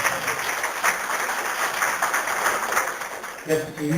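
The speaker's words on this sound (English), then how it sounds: "Let's give everybody a round of applause that's been up here so far." Broad crowd applause fills the space steadily, then fades as a voice begins to speak near the end.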